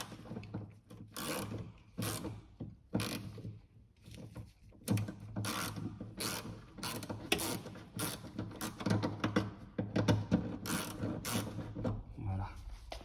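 A ratchet loosens a bolt inside the door of a Volkswagen Polo 5 during window regulator work, giving bursts of quick mechanical clicking at close range, separated by short pauses, with a low hum underneath.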